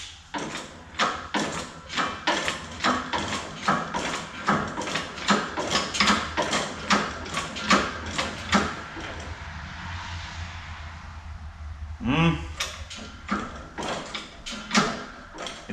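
A pipe bender works a truck's exhaust pipe during a dual 3-inch exhaust install, with the muffler removed. Steady, evenly spaced mechanical clunks repeat close by, pause briefly, then a scraping squeal and a few more strokes follow.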